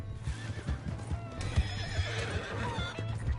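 A horse in the Red Dead Redemption video game whinnies, with clip-clopping hooves as it gallops, set among busy in-game ambience.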